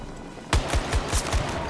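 Shotgun gunfire in a video game: a rapid string of about six punchy, booming shots fired at a steady, quick rhythm, close and loud.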